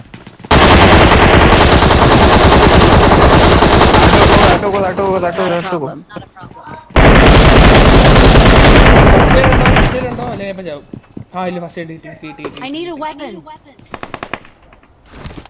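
Loud automatic gunfire from the PUBG Mobile video game, two long sustained bursts separated by a short gap, followed by scattered shots as a player talks over the action.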